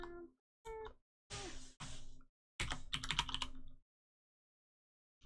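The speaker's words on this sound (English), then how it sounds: "It's so fun to type with this keyboard. It sounds so nice." Keys clack on a computer keyboard in short, close bursts of crisp clicks, preceded by a couple of brief tonal, vocal-like sounds, with silent gaps between.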